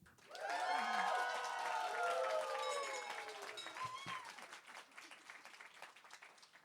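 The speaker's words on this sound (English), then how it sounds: "please say so with your applause now" An audience at a Genius Night trivia-style event answers with loud applause mixed with whooping, rising cheers. The clapping swells quickly, holds, then thins out as the voices trail off.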